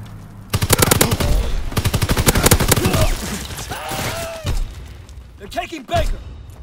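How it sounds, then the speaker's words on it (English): A fighter plane strafes in a video game battle, loud rapid machine-gun bursts hammering for several seconds, followed by scattered impacts and crackling explosions, with in-game voices talking around the gunfire. "Strafing the target."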